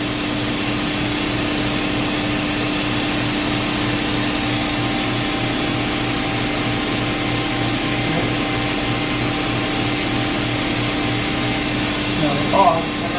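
A Mikron Bostomatic BD32-2G vertical machining center spindle turning at 1000 RPM gives a steady, continuous mechanical hum with fixed tones, loud and close, with a brief clatter near the end.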